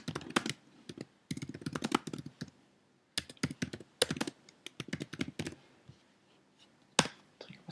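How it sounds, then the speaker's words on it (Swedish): Rapid keystrokes on a computer keyboard while text is entered in a save dialog, coming in dense bursts with short pauses, close and clear with no talking. "Här skriver vi in något vettigt."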